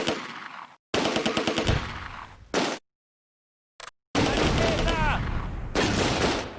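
Rapid bursts of machine-gun fire and heavy mortar blasts from the video game Close Combat: A Bridge Too Far, loud and dense, broken by short silent gaps, with a brief whistling streak partway through.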